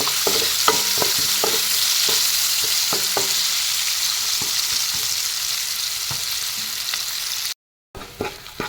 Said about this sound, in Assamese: পিঁয়াজখিনি দি লওঁ। অলপ ৰংচঙীয়া কৰি লওক।